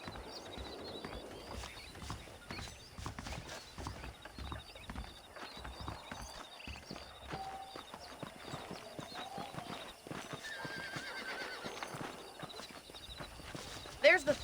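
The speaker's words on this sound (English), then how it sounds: "let's see if you can still ride a horse" A horse trots through a frontier town in Red Dead Redemption, with a continuous rhythmic clip-clop of hooves and an occasional neigh heard beneath ongoing character dialogue.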